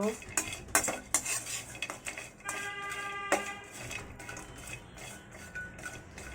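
Dried mourala fish dry-roasted in an empty pan on the stove, with a spatula scraping and clinking against the metal in irregular bursts over a soft background and no talking.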